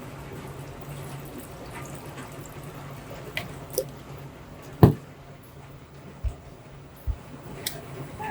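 Water trickles into a rock tumbler barrel holding baking soda and howlite stones, faint and steady, with a few distinct drips and splashes standing out near the end.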